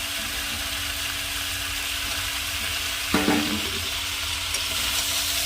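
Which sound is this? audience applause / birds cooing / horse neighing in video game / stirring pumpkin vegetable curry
stirring pumpkin vegetable curry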